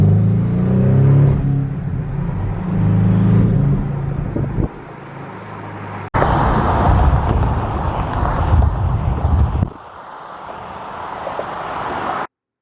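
A Corvette C8 Z06 with a manual gearbox is driven in several short bursts, its engine roaring and revving loudly up close with road and wind rumble, then dropping off abruptly between segments, with no talking.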